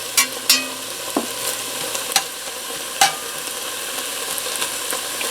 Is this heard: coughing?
no